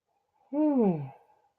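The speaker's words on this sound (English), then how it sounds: "I'm going to yawn" A single close human yawn, a voiced, drawn-out exhale that slides downward in pitch and fades over about a second.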